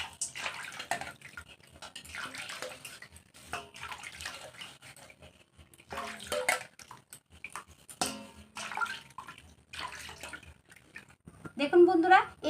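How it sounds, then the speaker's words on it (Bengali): A bronze (kansa) plate is washed under running water, with intermittent bursts of splashing and trickling and short pauses between them, plus a brief clatter near the end. "এখন আমি এই কাঁসা থালটাও আমি ধুয়ে আপনাদেরকে দেখিয়ে দিচ্ছি।"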